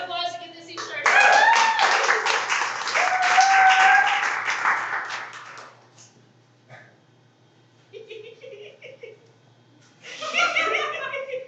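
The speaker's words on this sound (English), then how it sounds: "Round of applause to get this scene started." An audience at an improv comedy show gives a round of applause as a scene starts, a dense burst of clapping with some laughter lasting several seconds, then quiet before performers begin talking and the crowd laughs again.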